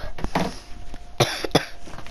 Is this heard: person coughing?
yes